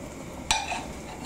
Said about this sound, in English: You can hear the sizzle, that's exactly what we're looking for.